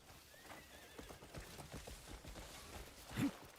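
A horse in the Crimson Desert video game gives a faint whinny over a run of quiet hoof clops, ending in a short louder snort.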